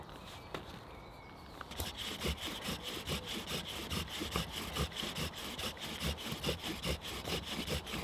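Rapid, rhythmic rasping of a bow drill rubbing wood against wood at a bushcraft camp, back-and-forth strokes repeating steadily after a brief quiet start, close and fairly loud.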